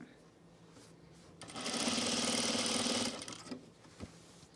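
A sewing machine stitches a jumpsuit seam near the shoulder and center back, a steady loud whir of about two seconds that rises and cuts off, with quieter machine sounds and brief clicks before and after.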